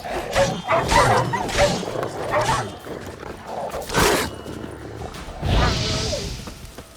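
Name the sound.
dogs barking in the video game The Witcher 3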